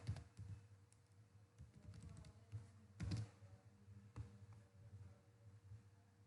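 Keys clatter on a computer keyboard in quiet, irregular bursts of taps, close and soft, with a few louder clusters of clicks and short pauses between them.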